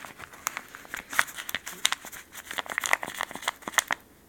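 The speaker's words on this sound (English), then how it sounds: "I skinned the rabbit and then I just dried it out and I moved it every now and then, and kind of it's like paper, the skin is." Stiff, paper-like dried rabbit skin being handled and flexed up close, producing a run of sharp crinkling, crackling rustles in irregular bursts.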